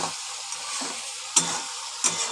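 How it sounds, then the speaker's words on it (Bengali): Prawns frying in a pan and stirred with spices for a Bengali prawn bhuna: a steady high sizzle broken by several sharp scraping strokes of the spatula against the pan. "এবার চিংড়ি মাছগুলো দিয়ে ভালো করে মশলার সাথে একসঙ্গে কষিয়ে নেব।"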